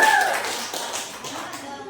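A brief burst of group clapping at a classroom group presentation, a dense wash of claps that fades slightly over a couple of seconds.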